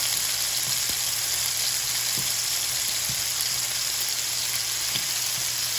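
Steak sears in a hot pan that has cooked dry after mushrooms and onions, giving a steady, close, even sizzle with occasional small pops and crackles, no voices over it.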